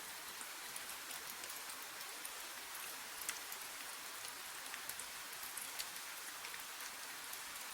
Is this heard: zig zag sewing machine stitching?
no